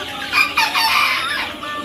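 Chickens cluck and squawk continuously at close range, about one-month-old birds kept on a small poultry farm, with no talk over them.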